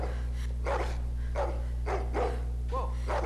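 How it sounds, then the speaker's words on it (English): Dog barking in The Walking Dead video game: several sharp barks and yips in quick bursts over a steady low hum, fairly close and loud. "Oh, the dog."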